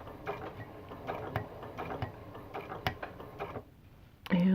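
A sewing machine stitches fabric hexagons at a short stitch length, a quick run of light ticking mechanical clicks close by that stops near the end, followed by a brief thump of handling.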